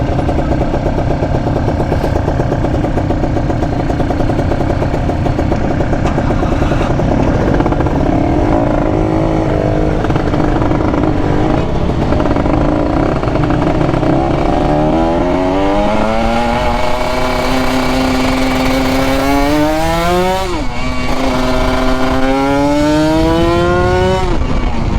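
A motorcycle engine idles steadily up close, then is revved repeatedly in the second half, its pitch climbing and falling with each blip of the throttle, with no talking.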